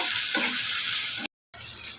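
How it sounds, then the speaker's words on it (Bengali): Oil sizzles steadily in a pan as onions fry for chicken biryani, a bright continuous crackle with a few stirring scrapes, cut by a short silence. "এখন আমি ভালোভাবে একটু ভেজে নিচ্ছি"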